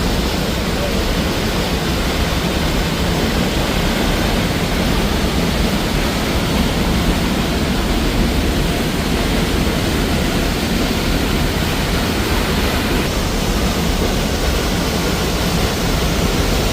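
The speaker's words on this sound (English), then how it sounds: "we are pretty close to the waterfall" A waterfall near Calgary roars as a loud, steady, broadband rush of falling water heard from close by, continuous with no breaks.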